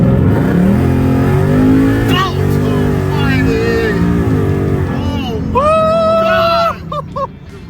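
Rebuilt Ford Mustang after a wreck, its engine revving hard during a short pull, loud and close with rising and falling roars that shift into a higher whine near the end, under a voice.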